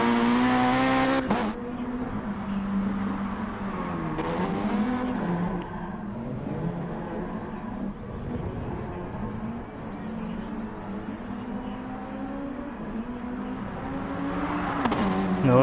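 Race cars in the Gran Turismo Sport video game at the Maggiore track, engines whining and revving steadily near the pits, with pitch sweeps as cars pass and brief loud bursts at the start, middle and end.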